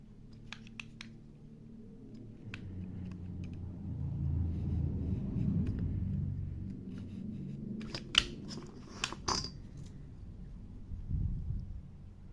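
Scissors or a craft knife cutting out small parts for a 1/35 scale fuel drum model, a scattering of crisp snips and clicks over low rumbling handling noise, close by with no talk.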